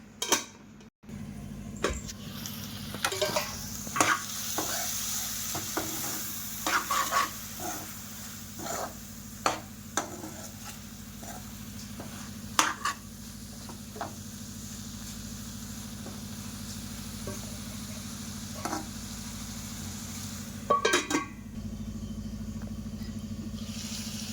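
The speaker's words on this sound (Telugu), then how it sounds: "మధ్యలో కలుపుకుంటూ ఉండండి, అడుగంటుకుంటుంది." Tomatoes being stirred in a pan for a fish and drumstick curry: scattered scraping and clinking of a spoon against the pan over a faint low hum, quiet and intermittent.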